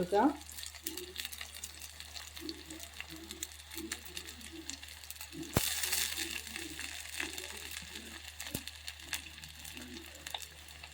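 Ginger and garlic for a fish curry sizzle quietly in a pan, a soft crackle with small bursts, heard faintly and close, with a brief clatter near the middle.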